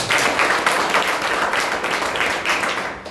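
An audience applauds at the inauguration ceremony of an oratory and personality development workshop, a dense, continuous wash of many hands clapping at steady loudness, with no voices over it.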